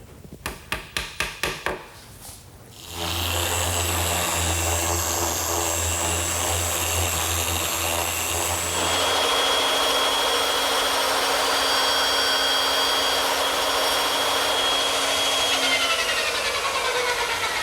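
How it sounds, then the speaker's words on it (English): Power tool cutting a wooden shelf bracket for an umbrella stand, a few sharp knocks then a loud sustained whining drone running nearly continuously, close up. "I've just cut one of the brackets that goes underneath the shelf beneath the mirror."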